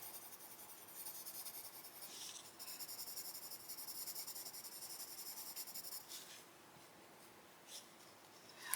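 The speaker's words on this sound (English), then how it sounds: "This is the point where you're kind of burnishing everything out. Smoothing it, making it look right." Colored pencil burnishes across a coloring page in soft, continuous scratchy rubbing strokes, quiet and close, with brief pauses between passes.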